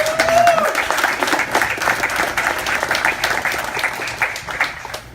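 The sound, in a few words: applause at a rally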